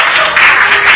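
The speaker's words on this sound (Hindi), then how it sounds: "आप तालियों से उनका अभिनंदन करें" Loud, dense applause from an audience welcoming a poet at a Republic Day patriotic poetry gathering, a steady close wash of clapping throughout the brief moment.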